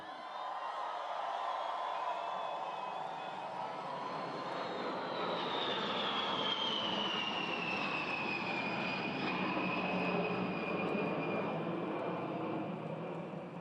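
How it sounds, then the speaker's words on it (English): A B-52 bomber passes overhead with a loud, sustained engine roar that swells and slowly shifts in pitch over about fourteen seconds, with no voices over it. "Yeah, baby, that's a B-52. They can fly from here to the other side of the world and back"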